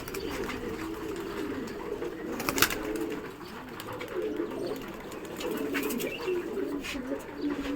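Pigeons coo steadily in a low, rolling murmur, several birds close by, with occasional wing flaps and light rustling over the top.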